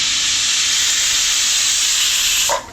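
A pressure cooker on the stove cooking pulao lets out a loud, continuous steam hiss that holds steady for over two seconds, then cuts off abruptly.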